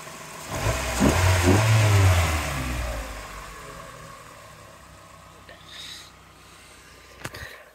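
A Mazda MX-5 with a 1.8 VVT engine revs up sharply then drops back to a lower idle-like hum, close and fairly loud, with a person speaking nearby.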